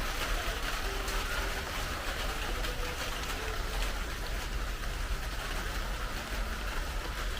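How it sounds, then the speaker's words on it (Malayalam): Steady rain falls over a Kerala home garden, a constant broadband hiss at moderate level with no breaks, faint bird calls barely audible beneath it. "മഴ പെയ്യുന്നോണ്ടിരിക്കുന്നു."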